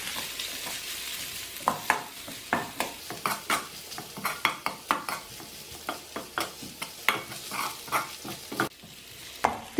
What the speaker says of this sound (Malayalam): ഇനി ഇതിലേക്ക് വേവിച്ച് വെച്ച ചിക്കൻ ചേർത്ത് കൊടുക്കാം. ഇത് നന്നായിട്ടൊന്ന് വഴറ്റിയെടുക്കണം.